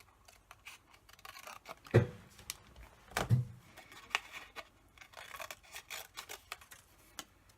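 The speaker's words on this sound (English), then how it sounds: "So I'm just fussy cutting, just going around the edge." Slightly blunt scissors fussy cut around the edge of a stamped paper card, giving quiet, irregular snips and scratchy paper sounds, with a few sharper cuts standing out.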